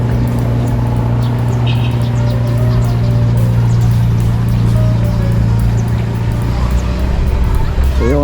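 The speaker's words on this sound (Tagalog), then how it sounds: "Tinawid na namin yung 3 motor sa isang balsa." A steady low engine drone and hum fill a river crossing where motorbikes ride on a raft, loud and continuous throughout, with a few faint bird chirps above it and no clear talk.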